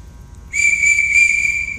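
A single sustained whistle blast during a school archery class, loud and steady for over a second after a brief quiet lead-in, with no talking over it.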